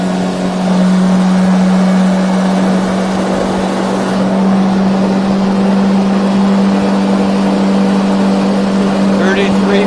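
A 2023 Stabicraft 1550 Fisher aluminium boat powered by a 2023 Yamaha F70 outboard cruises along, the motor's loud, steady drone holding constant over wind and water rush.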